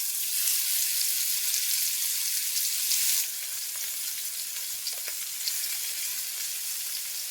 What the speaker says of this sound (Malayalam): ഞാനിപ്പോൾ വെളിച്ചെണ്ണയിലാണ് വറുത്ത് എടുക്കാൻ പോകുന്നത്